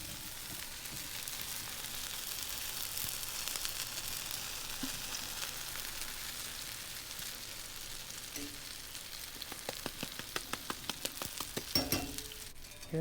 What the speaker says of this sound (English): But do you hear that sizzling?